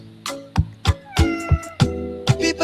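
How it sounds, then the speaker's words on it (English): A cat meows about eight times in quick succession, with short, loud, close cries spaced roughly every third of a second and no talking over them. "They're eating the cats. Meow, meow, meow, meow."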